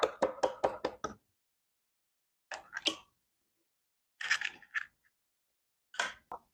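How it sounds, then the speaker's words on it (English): An egg cracked against a bowl's rim for dropping into milk: a quick burst of several sharp taps, then three separate crisp cracks and clicks spaced apart, near and clear against silence. "I'm going to break the egg into the milk"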